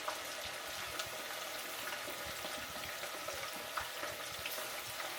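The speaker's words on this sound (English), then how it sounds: "slowly drop them in so the grease doesn't splatter on me" Chicken wings fry in hot grease with a dense, steady sizzle. Soft crackles and pops run evenly throughout, quiet and close up, with no talking.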